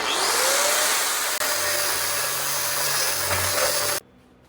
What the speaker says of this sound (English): Now we're going to leave it together and we're going to slice the back out